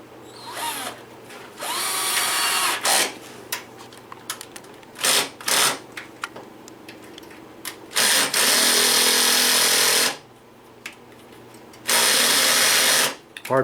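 A screw gun drives a screw into hard wood during a Taxi pinball machine restoration, with several loud, sustained whirring bursts of a few seconds each separated by short pauses and quieter handling sounds.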